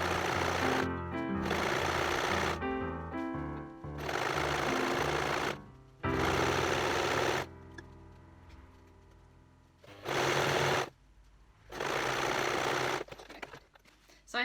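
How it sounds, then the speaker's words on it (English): A sewing machine stitches a hem in loud, fast rapid bursts of several seconds each, separated by short pauses with quieter handling noise. "I've moved my sewing machine out of the way"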